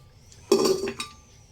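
Mutton trotters dropped into a pressure cooker, a short clank with metallic ringing, then a second lighter clink, close and alone.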